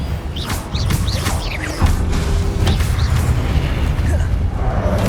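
Blasting-spell explosion during combat in Hogwarts Legacy, a loud close boom over continuous rumbling battle noise, with sharp whooshing zips of spell effects crackling around it.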